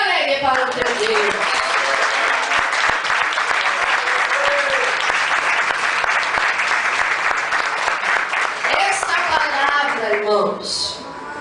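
A church congregation claps joyfully in loud, continuous, energetic applause, with voices mixed in, that sustains for several seconds before dropping off at the end.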